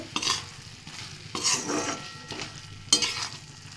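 Grated ginger is stirred into lote fish frying in a pan, Bengali style: a continuous sizzle is broken by three sharp spatula scrapes against the pan.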